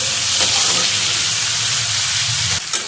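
Onions and tomatoes frying in a pan on a gas stove give a close, continuous sizzle and hiss, with a brief clatter near the end.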